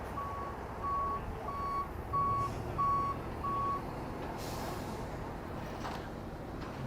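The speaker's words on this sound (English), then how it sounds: "3 tow trucks here to deal with the 3 vehicles" Reversing beeps from tow trucks clearing a multiple-vehicle crash on a highway, a steady series of six evenly spaced electronic tones over a constant engine and traffic rumble, with a brief hiss of passing noise afterward.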